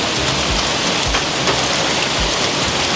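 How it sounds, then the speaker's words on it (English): Heavy rain pours steadily during a hurricane's aftermath, a dense, loud, continuous hiss with occasional deeper thuds of drops striking nearby surfaces. "The rain is here."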